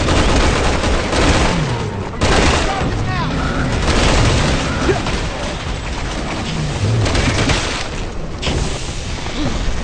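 Dense, continuous firefight gunfire from the video game Resident Evil 6, with heavy booms and overlapping shots packed together for the full length, loud and busy with other game sounds mixed in.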